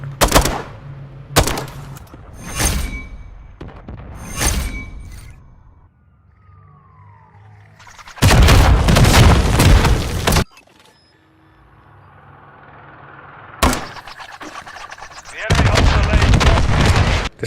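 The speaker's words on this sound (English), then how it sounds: "You start shooting." Automatic gunfire in the video game Modern Warfare III on the Favela map comes in sharp separate shots, then two longer loud bursts with quieter game ambience between them.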